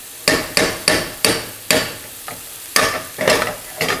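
Food frying in a pan after a generous sprinkling of salt and pepper, heard as a steady sizzle punctuated by about eight sharp, regular scraping strokes of stirring, close and fairly loud.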